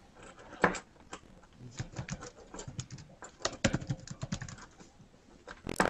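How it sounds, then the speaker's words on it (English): Typing on a computer keyboard at close range produces irregular bursts of clicky keystrokes with short pauses, fairly faint and without talk. "you're popping up because you're typing"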